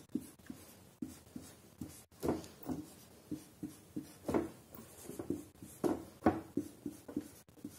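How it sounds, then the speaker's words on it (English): A pen or marker writes on a board in a math lesson on Roman numerals, giving a run of short, close scratching and tapping strokes in an irregular rhythm, with pauses between symbols and no talk. "So let me write more parts."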